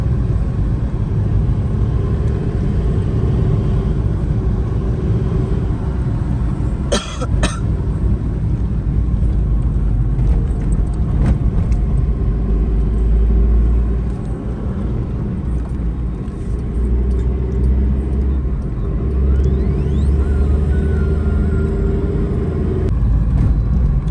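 Steady low engine and road rumble inside a car with the heater running, climbing the rough, damaged Kumbharli Ghat road, with a couple of brief knocks partway through and no talking.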